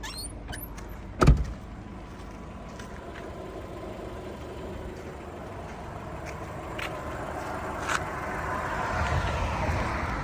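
A 2003 Volkswagen Golf 4's engine idles steadily and fairly quietly, with a sharp thump near the start and a few faint clicks and rustles around it.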